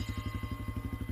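Rapid, even chugging of a motorcycle engine on a dark road at night, close and steady throughout the short stretch, with no voices.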